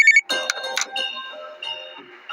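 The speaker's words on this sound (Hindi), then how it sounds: "तभी अचानक टेबल पर रखे फोन की घंटी बजी।" A phone on a police station desk rings with a bright electronic ringtone, chiming tones and a few clinking accents, loud and close, with no talking.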